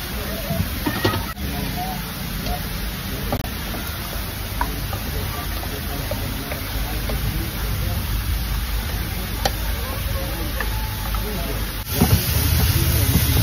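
Onions frying in a pan for veg pulao, a steady hiss and sizzle that runs unbroken and fairly loud throughout, with a few faint clinks along the way.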